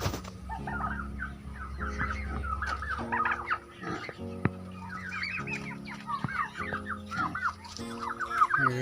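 Turkeys at a farm where chickens are also kept, a flock calling with repeated gobbling and clucking bursts over a steady low background, fairly close and continuous with no talking.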